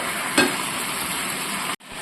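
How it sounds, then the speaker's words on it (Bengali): Vegetables frying in a kadai for a chhyachra dish, a dense, steady close sizzle with one brief clink of a spoon early on, cutting off abruptly near the end. "দু মিনিট নাড়াচাড়া করার পর সবজিগুলো সব ভাজা ভাজা হয়ে গেছে।"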